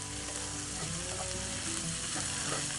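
Onions sweating in a pan with navy beans added for a smoked turkey white chili, giving a continuous dense frying sizzle with faint stirring, close and steady, no voices.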